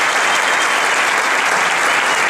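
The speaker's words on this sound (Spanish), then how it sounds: "Un aplauso para Mauricio." An audience at a business pre-convention applauds a speaker's example, loud dense clapping that stays steady and close throughout.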